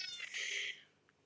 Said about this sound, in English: Okay, cat.